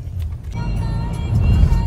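A car engine rumbles low and steady as the vehicle pulls up at home, growing slightly louder toward the end with no clear speech over it.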